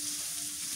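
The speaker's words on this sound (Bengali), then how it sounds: "এবার পেঁয়াজ কুচি দিয়ে দিই তেলের মধ্যে" Chopped onions hit hot oil in a pan on an earthen clay stove, giving a steady, moderately quiet sizzle that runs evenly without a break, with no voices over it.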